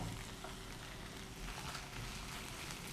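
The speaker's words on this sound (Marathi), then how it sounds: "याला पण परतून घ्यायचं आहे ना, कारण याचा कच्चेपणा हा गेला पाहिजे" Ginger-garlic paste sautéing in a pan, a faint, steady low sizzle that continues without a break and without talk.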